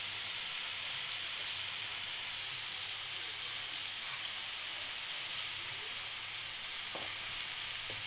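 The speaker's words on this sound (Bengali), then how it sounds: "এইবার এটাকে গ্যাসটাকে বাড়িয়ে দিতে হবে, বাড়িয়ে দিয়ে এটাকে এবার ভাজা ভাজা করতে হবে" Shredded cabbage fries in a pan on a gas stove over raised heat, giving a steady, close sizzle with light stirring clicks throughout and no talking.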